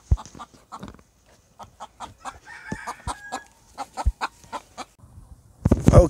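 Chickens cluck in short, repeated bursts nearby, with a few louder squawks and some rustling toward the end, as a dog and chickens, including a rooster, face off.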